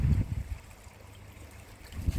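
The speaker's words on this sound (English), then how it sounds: "So let me get some water in this bowl." Water poured into a bowl beside a koi pond, a soft trickling and splashing with low gurgles at the start and end, close and fairly quiet.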